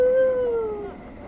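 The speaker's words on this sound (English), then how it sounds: "from within, you can hear distant howling" A single drawn-out howl with a falling tone sounds from inside a building in Planescape: Torment, somewhat muffled and fading over about a second.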